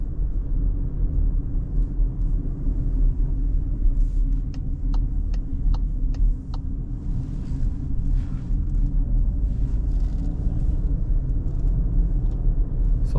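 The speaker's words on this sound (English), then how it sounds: "here you release the throttle and the car is coasting, as you can see." Cupra Terramar 1.5 eTSI (150 HP) coasting on the road at night with the throttle released: a steady low road and tyre rumble inside the cabin, with a few faint ticks partway through and no talk.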